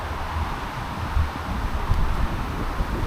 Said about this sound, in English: you can hear the wind blowing all around the place